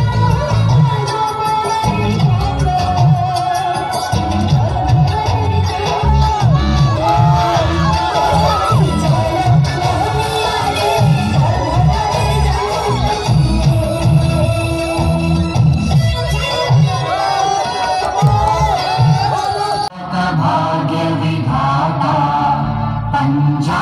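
A large grand-finale crowd at a champions trophy event cheers, whoops and claps in a dense, loud, sustained roar, with excited voices and shouts mixed throughout and a brief dip near the end.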